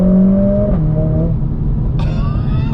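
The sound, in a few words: Mercedes-AMG A45 S accelerating at full throttle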